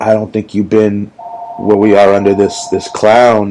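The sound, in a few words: telephone ringing in the background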